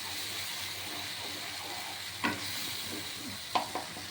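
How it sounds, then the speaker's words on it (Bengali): A paste of cashews, tomato, onion and ginger fries in a pan with a soft, continuous sizzle and a few brief spoon scrapes as it is stirred, quiet and without talk. "পেস্ট করে নিয়ে এটা একটু ভাজা ভাজা করছি"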